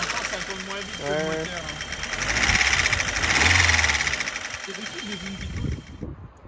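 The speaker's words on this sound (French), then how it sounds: "on entend le moteur" A BMW youngtimer's car engine runs steadily at close range with a fluctuating hum and faint knocking, rising slightly mid-clip before cutting off near the end, heard under people talking.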